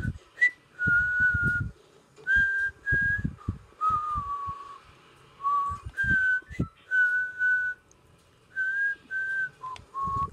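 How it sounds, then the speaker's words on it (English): A person whistles a song's melody in short, clear, steady-pitched phrases separated by pauses, heard close over intermittent low thumps and background noise. "by just listening to me whistle the background music."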